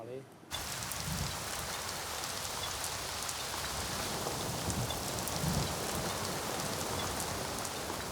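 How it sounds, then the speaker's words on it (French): Heavy monsoon rain pours steadily onto the Phnom Kulen forest in Cambodia, a dense, continuous hiss of drops on leaves and ground, close and enveloping after a brief quieter start. "arrêté par la pluie. Avec l'arrivée de la mousson"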